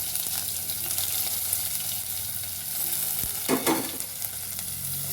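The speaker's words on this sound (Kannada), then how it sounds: "ಜೀರಿಗೆ ಹಾಕ್ ಸಾಸಿವೆ ಹಾಕ್ಕೋತಾ ಇದ್ದೀನಿ ಜೀರಿಗೆ ಮತ್ತು ಈರುಳ್ಳಿ ಹಸಿಮೆಣಸಿನ್ಕಾಯಿ" Cumin, mustard seeds, onion and green chili fry in a pan for a radish greens stir-fry, a continuous close sizzle with a brief burst of stirring or splashing midway, no talk.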